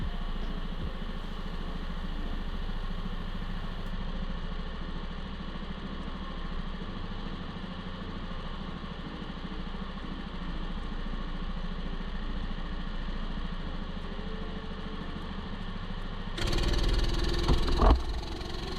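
Go-kart engines buzz steadily on a racing track under yellow flags, a constant mid-pitched droning hum that swells into louder, rougher roaring near the end.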